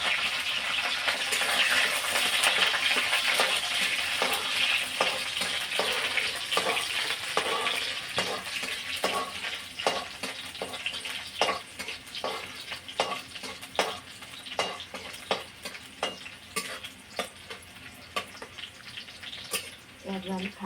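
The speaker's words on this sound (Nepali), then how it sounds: "प्याज अलिक खारिनु दिनुपर्छ।" Onion and green chilies fry in a pan for a village-style vegetable dish and get stirred steadily, with continuous close sizzling and repeated scraping strokes throughout.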